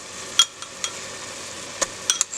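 Tomato paste being stirred into a pot of browned beef, a soft scraping stir under a faint sizzle, with a few sharp utensil clinks against the pot.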